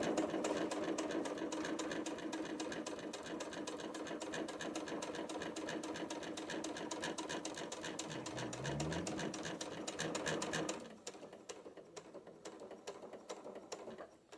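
A sewing machine runs a steady top stitch on a water bottle sling bag, its rapid needle clatter continuous and close for about ten seconds, then cutting off into quieter handling sounds.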